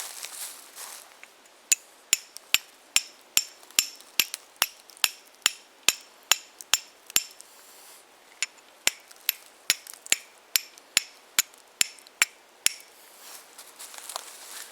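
Steel struck against a piece of quartz, a long series of sharp, bright clicks and clinks at an irregular pace, close up against a quiet background with no voices.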